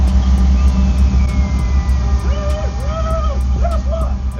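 A car engine revs on a street near an outdoor market in North Highlands, Sacramento, a mid-pitched rising and falling drone under background chatter and ambient noise.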